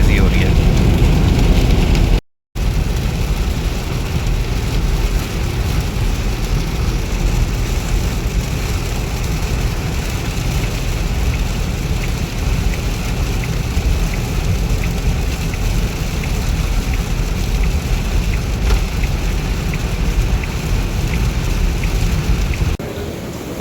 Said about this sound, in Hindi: बारिश काफ़ी तेज़ ही हो रही है।